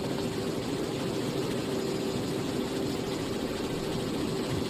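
A Robinson R44 helicopter in flight on a student's first solo, a steady droning rotor and engine hum with a sustained tonal whine, loud and unchanging from start to finish.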